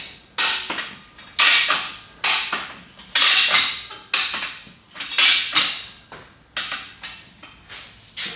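A metal ratchet clicks notch by notch in sharp, evenly spaced bursts, each pull ending in a loud metallic snap, during a Trailmaster 150XRS cage build, close and with no talk over it.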